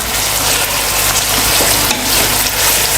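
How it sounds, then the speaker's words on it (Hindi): Two medium onions frying in hot oil for an okra dish, a steady close sizzle that runs unbroken and fairly loud throughout, with faint stirring movement and no talk. "ये 2 दरमियाने साइज़ के हमने प्याज लिए थे, इसको हमने तेल में डाल दिया है।"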